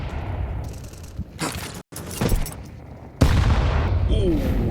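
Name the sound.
grenade explosion in Counter-Strike video game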